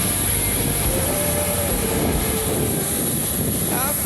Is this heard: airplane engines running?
yes